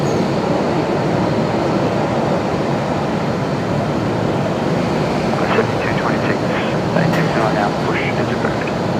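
A jet airliner rolling for takeoff at Brisbane Airport at night gives a steady, dense broadband roar that holds throughout, with a voice briefly speaking near the end.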